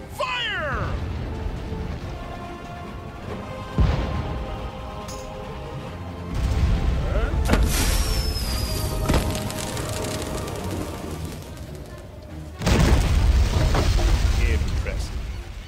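Pirate ship cannons in the Pirate101 video game fire in repeated heavy booms over a dense battle and music bed, with louder bursts near four, seven and thirteen seconds and voices talking throughout.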